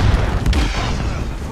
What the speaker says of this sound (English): I'm throwing a grenade to C.